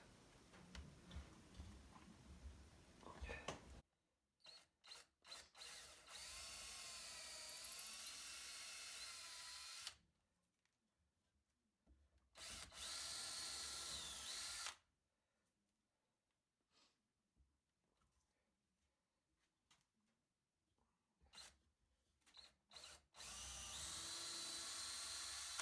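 A power drill fitted with a 3/8 bit bores holes into a Himalayan salt block in several separate whirring bursts of a few seconds each, with quiet pauses between them; the sound is fairly faint overall.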